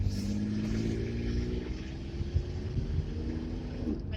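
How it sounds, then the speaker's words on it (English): A loud car engine idles steadily with a deep, constant rumble and hum, running close by with no one speaking. "My car is so loud."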